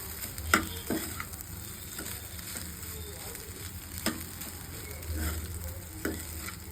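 Egg fried rice is stirred and mixed in a hot pan, with repeated scraping and clinking strokes of a spatula over a constant soft sizzle, close by and without talk.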